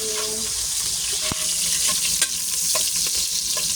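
Garlic and onions frying in hot oil in a pan crackle and sizzle steadily at close range, with occasional clinks and scrapes of a spatula stirring.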